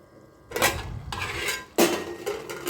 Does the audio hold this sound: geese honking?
no